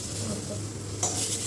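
Pointed gourd (potol) frying in a pan in a home kitchen, a low steady sizzle with stirring and a brief clink of utensil against the pan near the end.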